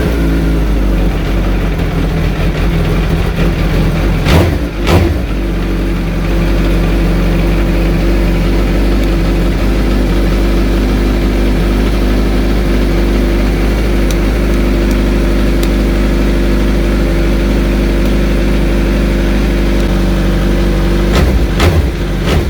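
A Suzuki Hayabusa motorcycle engine starts and settles into a loud, steady idle close by, with a couple of brief revs or clunks near the start and again toward the end.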